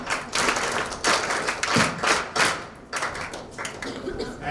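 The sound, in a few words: children clapping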